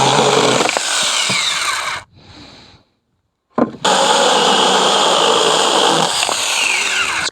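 A Saker mini cordless battery chainsaw cuts a wooden joist with a loud, close buzzing whine, then drops to a brief quiet whir and falls silent before revving and cutting again.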